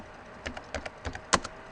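A computer keyboard clatters with a short run of about eight to ten crisp key taps, uneven in rhythm, as a calendar name is typed. The final tap is the loudest, nearby and alone with no talking.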